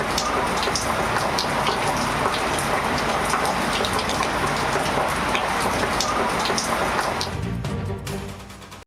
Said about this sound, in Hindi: पंजाब के मुख्तलिफ शहरों में वक्फे से मूसलाधार बारिश